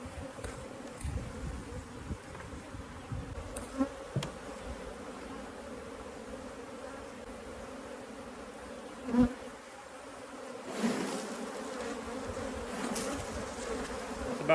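Bees buzzing in an empty top hive box, a faint continuous swarm hum with occasional louder thuds and knocks from the box and tool.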